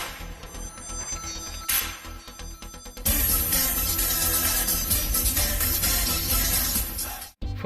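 A telephone bell rings in a loud, continuous trill with no one speaking, briefly pausing early on before settling into a sustained ring that stops near the end.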